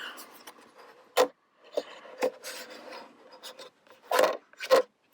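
Scraping and rasping of a plastic card sliding along the bottom cover of a late-2018 Mac mini, with several sharp clicks and snaps as clips pop loose, close and fairly quiet.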